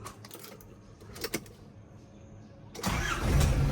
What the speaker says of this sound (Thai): เดี๋ยวติดเครื่องให้ฟังครับ